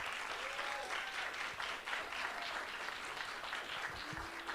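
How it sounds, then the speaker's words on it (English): An audience at a civil dialogue panel on immigration applauds the panelists, sustained clapping heard from a distance with a few faint tonal sounds mixed in. "How about a round of applause for all of our panelists?"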